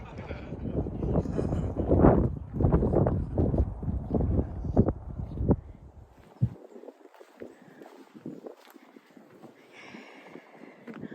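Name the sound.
wind on hilltop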